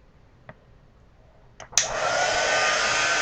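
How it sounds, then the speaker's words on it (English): A couple of faint clicks and handling knocks, then a heat gun switches on with a sudden burst and settles into a loud, steady blowing roar while drying monoprints for a collage. "So I'm going to turn the heat gun on real quick."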